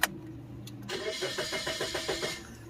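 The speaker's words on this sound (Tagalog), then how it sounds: "Ayan, umandar siya." A Suzuki Celerio's engine cranks briefly after a click, catches and starts, then settles into a rhythmic, slightly uneven idle, heard close by with no talking.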